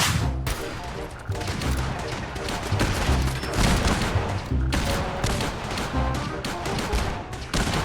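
Gunfire and explosions in the video game Fallout 4: dense, continuous volleys of loud shots and booming blasts, packed tightly together for the whole stretch.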